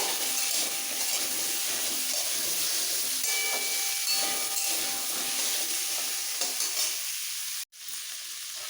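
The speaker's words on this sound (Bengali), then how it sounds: "খুব বেশি ভাজবো না একটু নাড়াচাড়া করে এর মধ্যে দিয়ে দিচ্ছি বেগুন আর ঢেঁড়স" Steady close sizzle of vegetables frying in a pan with occasional stirring scrapes, as okra and eggplant go in with the other vegetables; the hiss runs continuously, then briefly cuts out near the end before resuming quieter.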